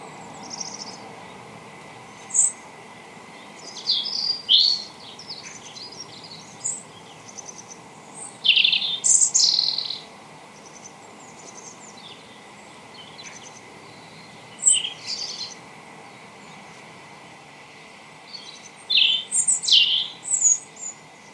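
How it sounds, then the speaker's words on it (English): Garden birds singing outdoors on a foggy, calm morning, scattered bright chirps and short warbling phrases in intermittent bursts over quiet background hiss, moderately distant, no people talking. "There were birds singing, so I decided to put my mic outside."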